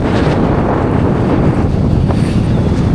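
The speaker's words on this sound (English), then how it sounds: "Here's a little gust." A gust of wind while parawing on a board over water roars steadily and loudly across the microphone as a continuous rushing buffet, with no voices.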